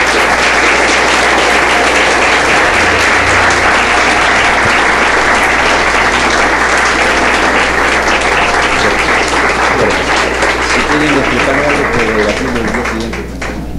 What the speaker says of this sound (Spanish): agradecemos nuevamente al doctor Kimper con un fuerte aplauso